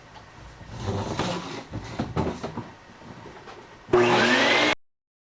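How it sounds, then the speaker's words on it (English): Rustling and clattering handling noises, then a vacuum cleaner abruptly switches on with a loud whine for about a second before cutting off. "Let me get the vacuum out first and get this thing cleaned up a bit."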